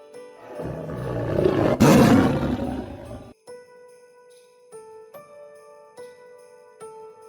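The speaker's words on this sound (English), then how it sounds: "Tiger." A tiger gives one loud, rasping roar lasting about three seconds. Light tinkling chime notes follow.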